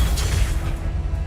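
A Confringo fire-blast spell in the Hogwarts Legacy video game sets off a dense, rumbling explosion with heavy low-end boom that rolls on without a break, loud and near, with no voices over it.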